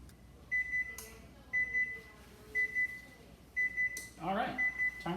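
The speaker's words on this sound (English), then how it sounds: "All right, timer's going off." A kitchen oven timer beeps in regular repeated pairs of short electronic tones. A person moves about and makes a brief vocal sound between beeps.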